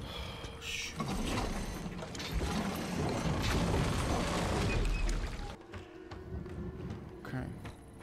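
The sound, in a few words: turning a crank mechanism in video game Resident Evil 7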